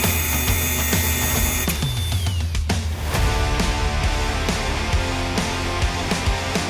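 Power tool driving homemade, slightly longer studs while bolting parts together on an ex-Amazon delivery van camper conversion, a busy run of whirring bursts and clanks, close and steady throughout with no talking.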